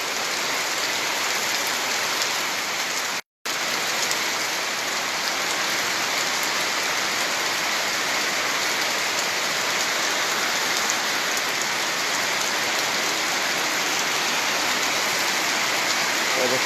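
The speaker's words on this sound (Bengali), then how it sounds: "বৃষ্টি ভয়াবহ হইতেছে স্যার।" Heavy rain pours steadily in Noakhali, a dense, even hiss that stays loud and close throughout apart from one brief cut-out, with no voices over it.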